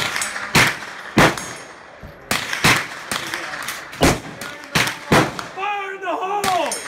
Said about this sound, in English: Then you squeeze the trigger.